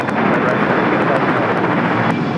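Jet engine roar from an airliner departing runway 25 right at LAX fills the moment as a dense, loud, continuous rumble without a break.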